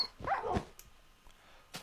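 A dog in a video game gives a short, faint burst of barking and yipping, followed by a few soft clicks and taps.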